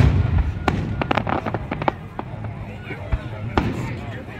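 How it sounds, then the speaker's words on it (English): Fireworks closing a Halloween drag racing event at a motorsports park in Norwalk, Ohio: a series of sharp bangs and crackling pops at irregular intervals, with crowd noise and low rumble underneath. "They closed the witching hour with some fireworks"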